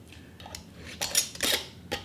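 A metal canning lid set onto the rim of a glass jar of homemade applesauce, a few light metallic clinks and taps, close and fairly quiet with no talking.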